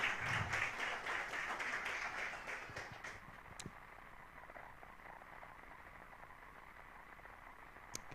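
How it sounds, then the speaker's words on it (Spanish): A church congregation at a Sunday service applauds, the clapping loudest at the start and fading over a few seconds into quiet room noise. "Dele un aplauso fuerte al Señor."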